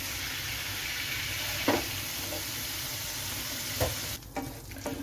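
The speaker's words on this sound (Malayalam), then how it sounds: "ബാക്കിയിരിക്കുന്ന പ്രോൺസ് കൂടി നമുക്ക് ഫ്രൈ ചെയ്തെടുക്കാം" The remaining prawns sizzle in hot oil with an even, close hiss, broken by a few sharp scrapes and clacks of a stirring utensil. The sizzle drops away near the end.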